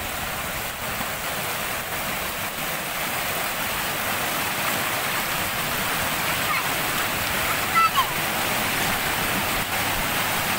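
A temple stream flows in a steady, broadband rush of water, continuous and fairly loud throughout, with one faint brief chirp near the end.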